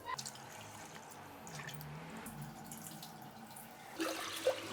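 Water pours into a pressure cooker holding lentils and toor dal in a home kitchen, a faint, steady trickle and splash with a slightly louder burst near the end.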